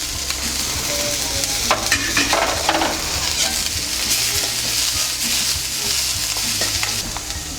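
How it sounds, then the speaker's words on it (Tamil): Ginger garlic paste frying in a pan for homemade wheat noodles: a steady, close sizzle with repeated scraping and stirring strokes of a spoon against the pan, no one talking. "நான் இது கூட கொஞ்சம் இஞ்சி பூண்டு விழுது ஆட் பண்ணுறேன்."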